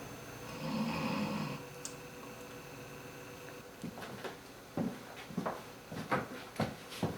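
Snoring breaths from a sleeper, a loud drawn-out rasp near the start, then a quieter stretch and a run of short rhythmic snorts and breaths toward the end.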